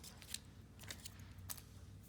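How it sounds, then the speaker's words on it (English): Scissors fussy cutting a paper greeting for a handmade card, a few quiet crisp snips spaced irregularly over a soft low background hum. "The greeting is fussy cut."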